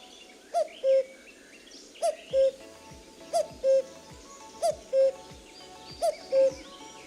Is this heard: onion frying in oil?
no